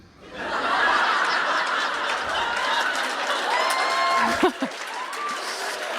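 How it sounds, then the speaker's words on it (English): An audience at a talk in Seattle cheers, laughs and applauds in a steady, fairly loud swell of clapping and whoops that carries through most of the stretch. "Big cheer for Satan here."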